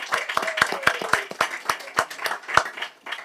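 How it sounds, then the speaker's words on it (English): Scattered hand clapping from a small group at a city council meeting in honor of city employees, uneven sharp claps with gaps, fairly close and thinning out rather than building into a full ovation. "those employees deserve a round of applause"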